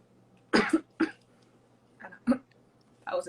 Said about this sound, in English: That was a dry cough.